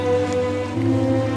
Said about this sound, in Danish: Det regner lidt